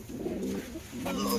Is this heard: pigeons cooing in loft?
yes